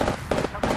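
Rapid automatic gunfire in the battle royale shooter Apex Legends, three dense bursts of loud, close shots separated by brief gaps, with combat ambience underneath.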